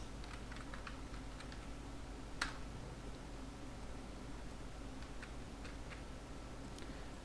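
Typing on a computer keyboard while writing a document in Microsoft Word: quiet, irregular key clicks in short bursts with one louder tap, heard close and alone against a faint background hiss.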